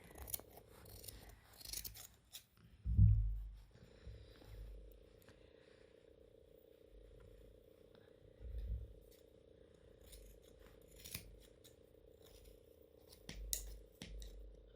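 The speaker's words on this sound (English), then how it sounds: "My scissors need sharpening." Scissors snip through upholstery fabric while a footstool is re-covered, a few scattered close crunching cuts over a quiet room, with the blunt blades chewing slightly as they close.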